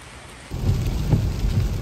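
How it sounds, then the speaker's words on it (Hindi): Heavy rain pours down in Canada, a dense low rushing wash with a faint rumble, close and steady over a short stretch. "आवाज़ सुनो बारिश की।"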